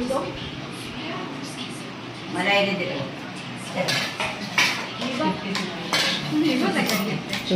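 Steel plates, a cooking pot and cutlery clink and scrape steadily as people eat outdoors in a village courtyard, with lively talk throughout.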